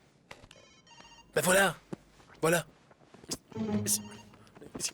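A landline telephone bell rings indoors in loud bursts, two clear rings with gaps between, while someone speaks briefly in French around them.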